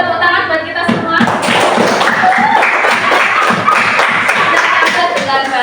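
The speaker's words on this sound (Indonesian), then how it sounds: "Beri tepuk tangan buat kita semua." Students in a coding and artificial intelligence class clap together, close and loud, with uneven taps and thumps joining the burst, which holds steady for several seconds.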